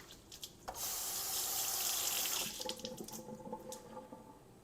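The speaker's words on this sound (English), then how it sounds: "Let's put it through the rinse here and see what it looks like." Tap water runs into a sink to rinse a Mueller vegetable chopper, a steady hiss starting abruptly, then cutting to clattering drips and splashes as the chopper is handled under the stream.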